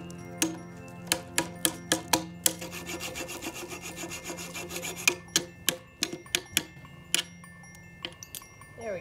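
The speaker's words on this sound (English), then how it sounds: "bend it, and then cut it with a hacksaw" A hacksaw works through a metal bolt during a Christmas light installation, with a steady run of close, rasping back-and-forth strokes punctuated by sharp clicks and taps, loud and without talk.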